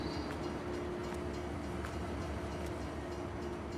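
Steady rumbling of a train in Farming Simulator 19's alpine setting, a continuous close roar of rolling wheels with faint rhythmic clacks throughout, no voices.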